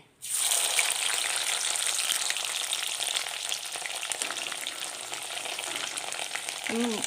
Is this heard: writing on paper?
no